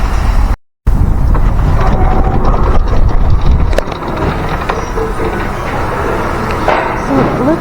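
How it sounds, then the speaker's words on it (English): Cold, blustery wind blows steadily outdoors, a loud broadband rush with buffeting gusts on the microphone, briefly cut out near the start and easing slightly partway through. "So it's windy here today, and like I said, it's cold."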